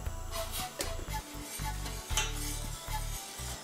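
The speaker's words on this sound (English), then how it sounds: "And you just keep on stirring until it is dissolved." A spoon stirring koeksister syrup with ginger, lemon juice and a cinnamon stick in a pot, soft scraping and light clinks over a continuous low machine-like hum, fairly quiet and close.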